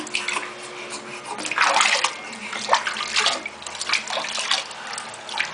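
Water splashes and sloshes steadily while a newborn baby gets a first bath at home, a close and fairly loud, continuous washing sound with brief swells of movement.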